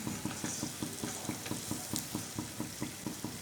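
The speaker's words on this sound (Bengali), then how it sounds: "ভাজা হয়ে আসছে, এখন আমি উঠিয়ে নিচ্ছি।" Okra chops deep-frying in hot oil: a steady broadband sizzle with regular soft bubbling pulses running throughout, close and fairly loud, no voices.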